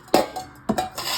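Soaked dates are moved into a mixer jar, giving two sharp clinks of a utensil against the jar followed by softer scraping, close and clear with no voices.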